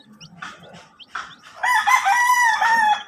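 A rooster near a brood of newly hatched chicks crows loudly and close, a single drawn-out cock-a-doodle-doo rising after a few softer clucks and soft background chatter.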